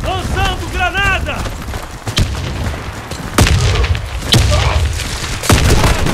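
Sharp booming blasts in the shooter game Warface, several explosive hits spaced a second or so apart amid gunfire, loud and close, with a voice shouting early on.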